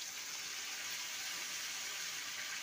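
Water poured into a pot of curry, a steady, continuous gushing fill without breaks or voices.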